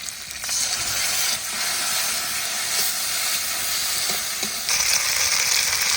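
A ground paste of green chili, dried chili and black pepper frying with onion, garlic and ginger for a duck curry, giving a continuous dense sizzle and hiss close by, with no talk.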